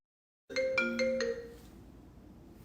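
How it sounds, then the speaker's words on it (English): A phone rings with an incoming call, interrupting a quiet indoor reading: a close, melodic electronic ringtone of repeated bright tones for about a second, then fading into a softer ringing tail, with no talking. "That was a little phone call that I wasn't expecting."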